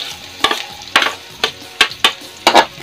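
Garlic being sautéed in a pan sizzles at close range, broken by five or six sharp bursts as it is stirred at a regular pace, with no one speaking.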